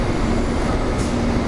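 Denver airport's underground tram train runs between concourses with a steady, loud rolling rumble and faint whine, heard from inside the car with no voices.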